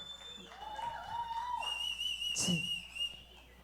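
A few sharp whistles ring out from an audience at a Deepavali-Rajyotsava stage show, rising and sustained, with faint clapping and murmuring underneath.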